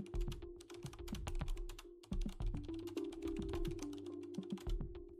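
Rapid clicking of fingers typing on a computer keyboard, close and crisp in quick bursts with a brief pause midway, over a faint steady hum.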